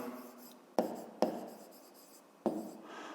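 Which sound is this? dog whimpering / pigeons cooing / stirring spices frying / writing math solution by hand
writing math solution by hand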